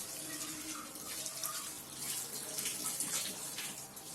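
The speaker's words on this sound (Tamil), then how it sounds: "இப்போ நான் 1/2 கப் அளவு தண்ணி சேர்த்துக்கிறேன்." Steady running water splashing into a cooking pot of chicken kulambu, a continuous hissing pour with no voices.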